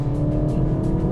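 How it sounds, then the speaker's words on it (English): Sports exhaust of a MINI JCW Pro Edition hatchback in angry mode, a loud, steady, close-up engine drone holding a raw, throaty rumble for about a second. "press it twice and the exhaust becomes all angry and you activate the sports exhaust"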